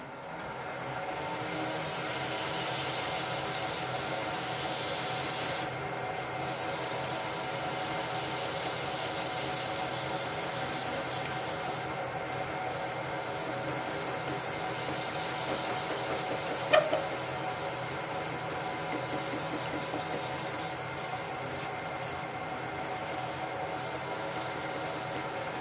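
A wood lathe turns a pepper mill slowly at about 130 RPM while finish is rubbed onto the spinning wood, giving a steady close hiss and whir with a soft rhythmic swell and a brief tap partway through, without speech.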